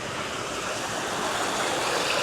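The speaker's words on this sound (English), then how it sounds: "Fresh water flowing." A small freshwater stream runs beside a path in Faversham, Kent, giving a steady, broad rushing and trickling wash of water with no other sounds over it.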